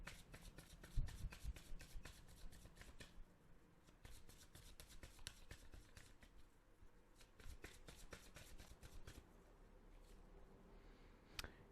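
Oracle deck cards shuffled by hand at a tarot reading table, a steady run of crisp riffling and slapping card sounds, close and fairly quiet, with no talking.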